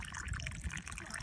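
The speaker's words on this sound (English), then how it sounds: "Then just to sort of shock it, we're going to pour a little bit of cold water in it." A small amount of cold water is poured into coffee being brewed outdoors, a brief close trickle and light splashing into the pot, quiet and short.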